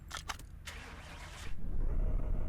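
A 1993 Ford Mustang Cobra R cranking over and firing up in Car Mechanic Simulator, a few short starter bursts followed by a loud, deep idle rumble that swells and holds steady.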